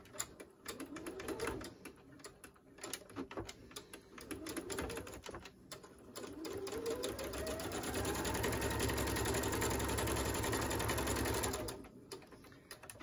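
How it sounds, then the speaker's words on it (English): A sewing machine runs in bursts while stitching a fabric face mask, with short stop-start runs of rapid needle clatter, then a longer steady stretch of continuous stitching, close and fairly loud. "Then I'm going to back stitch right here."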